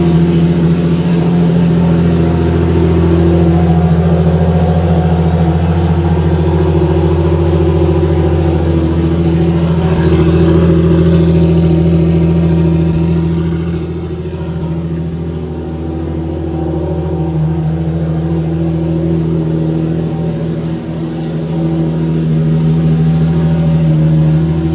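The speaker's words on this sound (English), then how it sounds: "the car fires up and runs" A car engine runs steadily after a clutch bleed, with a loud, rumbling idle and brief rises in revs.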